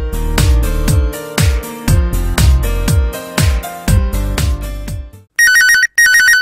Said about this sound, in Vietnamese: Có điện thoại rung rồi.